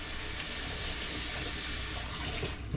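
Warm water runs steadily from a tap into a dish crusted with hardened chocolate, a constant close rush of splashing flow with no voices.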